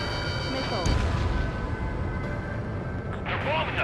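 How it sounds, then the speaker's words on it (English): Bombing explosions rumble in the Ace Combat 7 video game, low booms rolling under steady electronic tones and radio chatter, with a heavier blast near the start. "They're bombing us."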